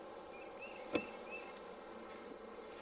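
Honey bees buzz during a spring hive inspection, a faint, steady insect hum with a brief sharp knock near the start and soft higher whines drifting over the drone.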